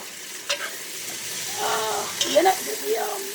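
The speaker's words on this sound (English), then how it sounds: "We're going to let it simmer down, like fry down a little bit." Okra, tomato and ginger soup with fresh thyme cooking down in a pot, giving a steady close sizzle and frying crackle with a few stirring clinks, heard alone without talk.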